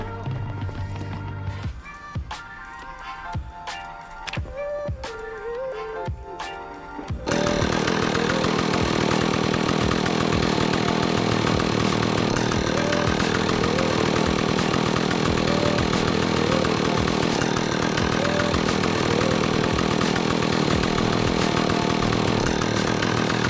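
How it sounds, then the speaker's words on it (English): A chainsaw in the video game Project Zomboid starts up after a few quieter clicks and thumps, then revs loudly and steadily for the rest of the clip. "that is the sounds of a chainsaw revving"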